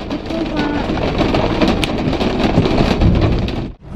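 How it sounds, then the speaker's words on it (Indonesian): Heavy rain pours at night in Kemang, Jakarta, a steady loud broadband wash with low rumbling underneath that drops out abruptly near the end. "Ini hujan deras banget ya teman-teman ya"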